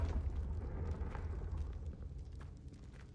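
Confringo blasting spell explosion in Hogwarts Legacy, a deep rumbling boom that fades into a low crackling roar, fairly faint and alone.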